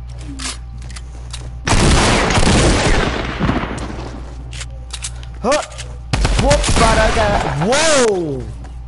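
Video game gunfire comes in loud, rapid bursts with sharp cracks in two main stretches, separated by quieter moments; voices talk intermittently between and over the shots.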